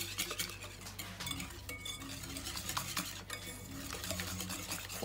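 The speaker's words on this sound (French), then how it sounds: "Faut que j'ajoute et en même temps je mélange." Cornstarch being stirred into a flan custard mixture, a quiet, steady scraping and swishing of a utensil around a pot with faint clinks, close and continuous, with no talking.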